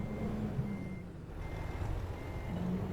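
Truck reversing beeps from a big rig in American Truck Simulator, a steady repeating electronic tone sounding alone over a low engine rumble.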